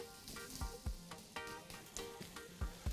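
Thyme sprigs dropped into a hot pan of osso buco with onion and garlic, giving a steady close sizzle and frying crackle with small repeated spits and pops, no talking.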